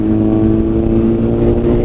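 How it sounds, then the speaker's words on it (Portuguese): A Honda CBR Fireblade motorcycle engine rumbles loudly and steadily in a city centre, a deep continuous drone at close range with no talking. "Estamos aqui com a Honda CBR Fireblade, muito barulhenta, para variar."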